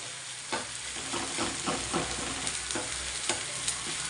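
Softened tomatoes frying in a pan, a steady close sizzle broken by repeated spatula scrapes and stirring knocks at an even rhythm.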